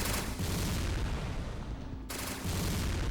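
Gunfire aimed at the boss Morpheus in the PS2 game Resident Evil: Dead Aim, heavy booming shots over a dense, loud rumble of noise, with a brief quieter gap before the blasts resume.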